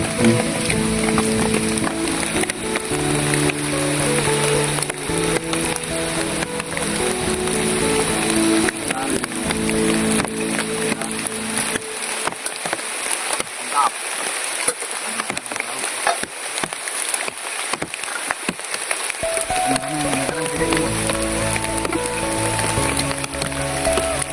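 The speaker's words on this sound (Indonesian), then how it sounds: "sepertinya hujan pada malam ini awet sekali ya" Heavy, steady rain pours down on a campsite at night, a constant dense hiss that fills the scene without pause, with low background tones that fade out midway and then return.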